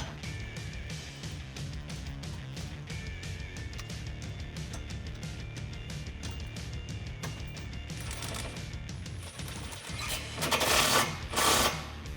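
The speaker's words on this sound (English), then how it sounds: "you can take a 13mm socket and tighten that down" A 13mm socket ratchet tightens a bolt while fitting textured black side armor to a 2018 four-door Jeep Wrangler JL, giving a long train of rapid, close clicks followed by louder rattling handling noise near the end.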